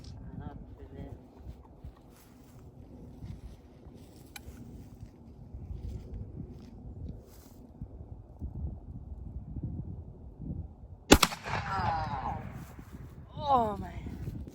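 A single-shot 20 gauge shotgun (Henry) firing a 2 3/4 inch, 3/4 ounce slug outdoors gives one sharp, loud report that rings out briefly over wind and background rumble, with people talking before and after.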